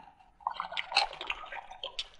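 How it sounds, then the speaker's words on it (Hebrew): Water spilling and splashing out of an electric water heater tank as the flanged heating element is loosened, an irregular nearby trickle and splatter with no talking. "הנה אתם רואים, מים מתחילים לצאת החוצה"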